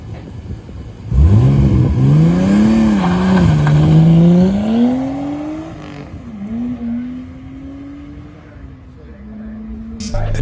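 A Nissan Skyline race car at the Mt Leura hillclimb, heard from the hillside as the engine revs rise and fall through the corners, loud and close, then fading slightly as it pulls away.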